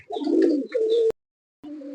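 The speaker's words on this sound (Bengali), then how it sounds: "এক পেয়ার কবুতর দেখেন, টেডি রানিং পেয়ার দেখেন প্রিয় দর্শক" A pair of Teddy running pigeons coo nearby in clear, throaty rolling calls: two phrases, an abrupt break into silence, then another coo starting up, loud and close.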